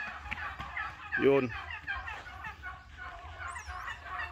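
Pet turkeys on a ranch give a brief gobbling call amid other fowl noise, faint to moderate, with someone speaking nearby.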